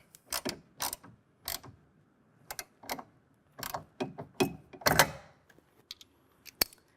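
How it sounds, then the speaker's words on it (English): A bracket bolt tightened with a 5mm Allen wrench while installing a Truxedo Pro X15 soft roll-up tonneau cover on a 2024 Jeep Gladiator: close, dry metallic clicks and ratcheting scrapes in irregular short bursts, with brief quiet gaps between. "now we're going to go ahead and lock down the bracket up front"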